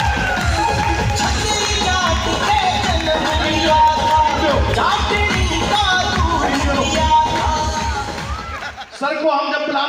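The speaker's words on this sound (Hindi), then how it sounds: "जोरदार तालियां।" Loud sustained applause from a large audience at a recognition ceremony and speech event, dense rapid clapping mixed with crowd cheering and babble, fading out near the end.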